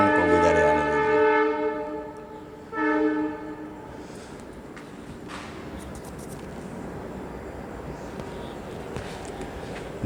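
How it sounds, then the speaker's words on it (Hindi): A passing train sounds two long horn blasts, the second one shorter. Afterwards the train's steady rolling rumble carries on alone. "ट्रेन को गुजर जाने दीजिए।"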